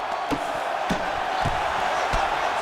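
A crowd in the UFC 5 fighting game roars in a steady wash of noise, punctuated by four dull body-blow thuds at a regular pace, each drawing a swell of reaction.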